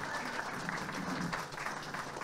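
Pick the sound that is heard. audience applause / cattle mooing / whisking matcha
audience applause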